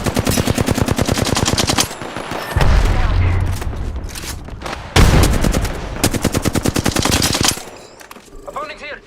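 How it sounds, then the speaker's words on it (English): Rapid automatic gunfire in Valorant during a competitive esports match, loud and close in long sustained bursts broken by short pauses and heavier impacts, with game voice callouts speaking over parts of it. "Getting shot at."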